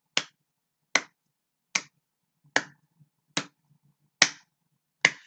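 Seven sharp, crisp hand claps at a slow, even pace roughly once per second, each short and close with quiet gaps between.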